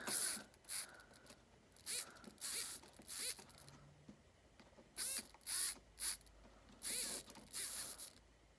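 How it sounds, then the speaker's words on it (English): A small hobby servo motor is turned from 0 to 180 degrees. It gives faint, short bursts of whirring and grinding, close by and in an uneven rhythm, separated by quiet gaps. "This is my servo. It is currently at 0 degrees, and as I rotate it, it rotates all the way to 180."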